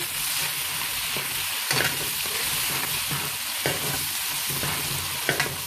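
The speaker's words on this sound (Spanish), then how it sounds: "la cebolla y el apio. Hasta que se dore un poco también." Onion and celery sizzling steadily in hot oil in a pan, a continuous frying hiss broken by a few soft clicks of stirring, with no one talking.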